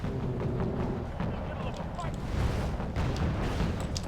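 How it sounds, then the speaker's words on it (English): Missiles launch in the Wargame Red Dragon strategy game, a dense, loud rumbling roar of rocket fire and booms that runs without a break. "Missiles away."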